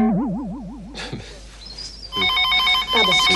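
A telephone rings indoors with a warbling electronic trill, then bright repeated ringing tones follow, loud and close, without speech.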